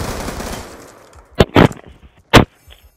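Automatic gunfire in Black Ops 2 rattles as a dense burst that fades out, followed by three sharp, loud single shots spaced apart and then near silence.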